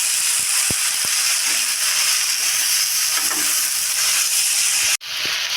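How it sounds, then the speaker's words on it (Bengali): Tomatoes fry with cauliflower in a pan, giving a steady, loud sizzle with faint stirring scrapes and clinks, cut off by a sudden break near the end before the sizzle resumes. "টমেটোটা দিয়ে ভালো করে এবার একটু ভেজে নেব"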